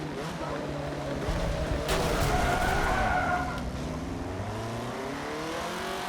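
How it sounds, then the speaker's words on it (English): An off-road buggy skids in the Forza Motorsport 7 racing game, tyres scrubbing loudly under a constant engine drone that rises and falls with revving, continuous and close. "this particular vehicle has a larger tendency to skid"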